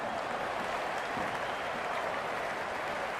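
A stadium crowd claps and cheers in the Cricket 26 video game during a Pakistan vs India match, a dense, steady wash of applause heard alone throughout.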